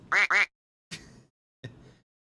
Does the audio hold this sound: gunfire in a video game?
no